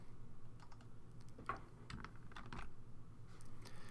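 Computer keyboard keys are pressed for a Photoshop shortcut: several quiet, close clacks in a quick irregular cluster over a low steady background hum.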